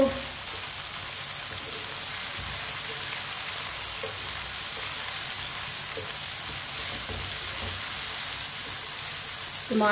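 Tomatoes, onions and potatoes cooking in a pan give a steady sizzle that runs throughout, with a few soft clicks from a spoon stirring the mix.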